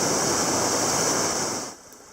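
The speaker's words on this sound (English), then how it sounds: "Some more little waves here." Small waves and ripples on the Tay River wash in a steady, close rush that cuts off abruptly near the end, leaving only faint background.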